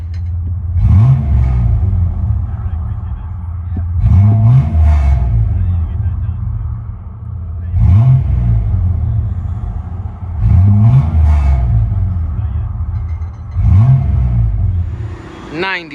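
From inside the cab, a 1996 Dodge Dakota Sport's 3.9L Magnum V6 with a Flowmaster Super 10 exhaust revs in about five sharp bursts, each climbing then falling back to a low idle rumble.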